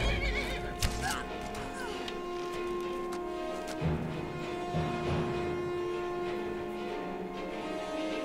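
A horse in the video game Skyrim gives a shrill whinny early on, then keeps snorting over steady in-game ambience and music, with a few faint hoof sounds.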